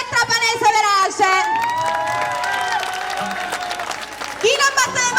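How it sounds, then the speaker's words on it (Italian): A concert crowd at a band show in Trapani claps, cheers and whoops, loud and continuous, with shouting voices throughout and a brief burst of clapping near the end. "vediamo chi batte le mani e chi non le batte"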